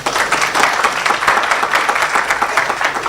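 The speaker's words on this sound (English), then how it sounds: "Let's give them a round of applause" Audience at a stakeholder conference session claps for a panel, a steady burst of hand clapping from a seated crowd that continues throughout, fairly loud and close, with no speech over it.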